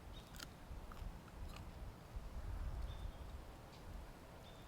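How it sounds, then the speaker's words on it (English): A folded plantain leaf being chewed close up, with soft, quiet crunching and wet mastication sounds in a steady rhythm and a few faint crisp clicks. "what I'm doing when I'm chewing this leaf"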